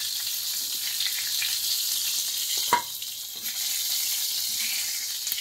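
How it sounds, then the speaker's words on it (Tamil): Pieces of diamond trevally fish fry in hot oil with a loud, continuous hiss and bubbling, broken once by a sharp pop. No voices are heard. "11வது நாள் நாங்கள் பொறிச்சுட்ருக்கோம்."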